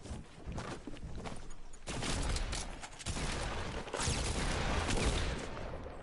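Dense, continuous gunfire from a video game firefight with a hunting rifle among the weapons, shots blurring into a loud sustained barrage that swells over several seconds.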